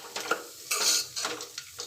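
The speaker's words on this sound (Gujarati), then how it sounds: "આ મીડિયમ સાઇઝનો મેં કાંદો ઝીણો સમારીને રાખ્યો છે, એ પણ એમાં આપણે નાખી દઈશું।" Finely chopped onion tossed into aloo chaat in a pan with the heat off, giving a few close scraping, stirring clatters of utensil against pan, no voices.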